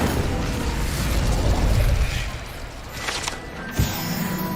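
An Incendio fire spell cast in the video game Hogwarts Legacy: a rushing, roaring fiery burst that swells and then fades, ending in a sharp pop near the end.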